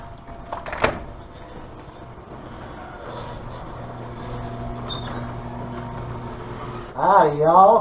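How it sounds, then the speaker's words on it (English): A garage door opening with a steady mechanical hum that builds through the middle, and a voice breaking in loudly near the end. "enjoy the garage door reveal"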